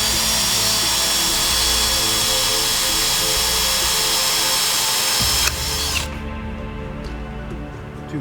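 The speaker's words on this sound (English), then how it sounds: "So to do that, we're going to start with a pilot hole." A power drill boring a pilot hole in a Harley-Davidson battery cover, a loud steady whine close by that cuts off abruptly near the end, leaving a quieter room.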